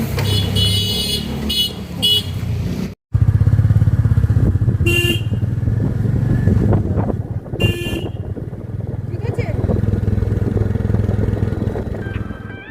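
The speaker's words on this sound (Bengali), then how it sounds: "বাইকের ধাক ধাক ধাক ধাক আওয়াজেই হর্নের আর আওয়াজ শোনা যাচ্ছিল না" A motorcycle engine thumps steadily close by on a winding mountain road near Mirik, with a horn tooting several times over the running engine and a brief cutout near the start.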